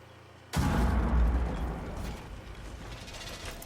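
A sudden loud blast erupts in a tactical shooter video game match, then decays into a rumbling, crackling tail that fades slowly over several seconds.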